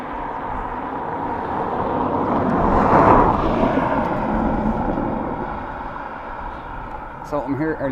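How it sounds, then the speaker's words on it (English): An Airbus A330 jet airliner arrives at Dublin Airport, its broad engine roar swelling to a peak midway and then slowly fading, with people talking over it throughout. "next up we have flight EI401 coming in from Rome, Airbus A330"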